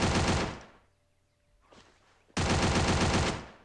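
M60 machine gun firing in the Free Fire video game, two sustained loud bursts of rapid automatic fire separated by a short pause.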